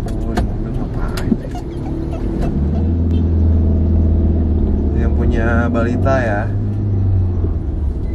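A car passes outside a house in Bali, a low engine rumble that swells and holds steady beneath people talking nearby.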